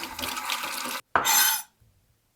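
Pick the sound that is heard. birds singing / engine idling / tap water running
tap water running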